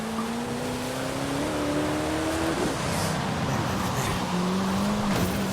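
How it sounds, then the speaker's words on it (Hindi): In a racing video game, a car's engine drones continuously and loudly as its tires hiss and slide across a wet road, with a steady wash of spray noise throughout and no voices. "भाई टायर पूरे स्किड कर रहे गाइस, पूरे।"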